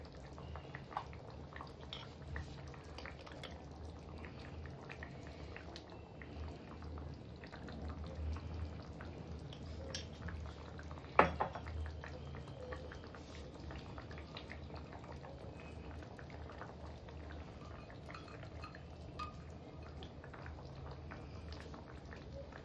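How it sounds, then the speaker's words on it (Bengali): A pot of curry with spices and coriander leaves bubbling at a steady low simmer, close and continuous, with faint background voices and one brief clink. "এবার এটাকে 2 মিনিটের মতো একটু ফুটাতে দেবো"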